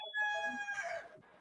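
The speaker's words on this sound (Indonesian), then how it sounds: "Suara ayam apa itu?" A rooster crows once nearby, a clear drawn-out cock-a-doodle-doo with a strained, tapering finish.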